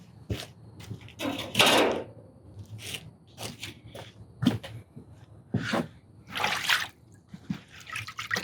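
Water hose rinsing gas grill parts, irregular bursts of splashing and spattering water broken by short pauses and quieter drips, close by with no talking.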